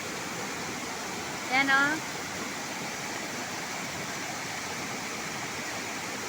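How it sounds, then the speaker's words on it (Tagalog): Steady broadband rush of Kawali Falls, a swimming-spot waterfall, roaring continuously at an even level, with a brief voice and a faint whistle-like tone breaking through near the start. "Kawali Falls guys."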